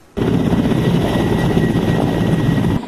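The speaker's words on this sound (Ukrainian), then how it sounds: "львівські вертолітники випробовують один із найпотужніших у світі гвинтокрилів" A powerful military helicopter of a Lviv army aviation unit, its rotor and engine roaring loud and steady from a quarter second in and holding to the end, close by with no voices.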